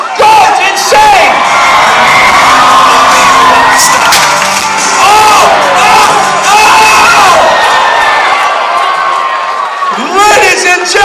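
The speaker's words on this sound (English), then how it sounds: "And the crowd goes insane." A jousting tournament crowd at Scottish games erupting in loud, close cheering, with whoops, shouts and children's high-pitched yells rising and falling for several seconds before briefly dipping and surging again.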